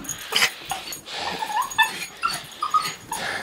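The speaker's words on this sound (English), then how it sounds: "Yes, what a good dog." A dog whimpers and whines in high, thin squeaks, a quick run of short cries close by, excited at people returning home.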